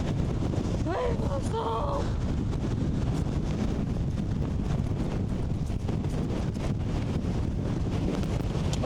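Strong wind roars continuously across the microphone on an exposed height on Madeira, a loud unbroken rush with a brief voice-like sound near the start.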